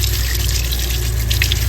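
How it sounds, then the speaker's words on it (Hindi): Water pours steadily into a large, freshly washed cooking pot, about three kilograms of it, making a constant close rushing splash that holds evenly from start to finish with no talk. "अब इसमें डाल रही है अम्मी जी पानी"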